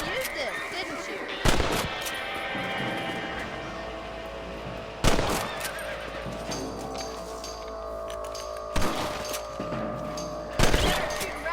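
Gunshots ring out in Red Dead Redemption while shooting rabbits, four loud separate cracks spaced several seconds apart over a low outdoor ambience, with speech in the background.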